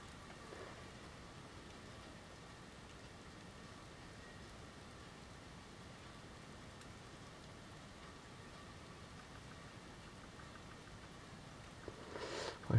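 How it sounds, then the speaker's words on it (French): Light shower of rain mixed with snow in Amboise, France in January, a soft steady hiss of falling drops throughout, faint and even, with a brief louder patter near the end. "Une averse de pluie neige mêlée."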